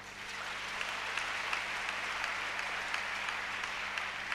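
Congregation in a church service clapping and cheering together, a dense, steady wash of applause that holds for several seconds with no clear talk over it.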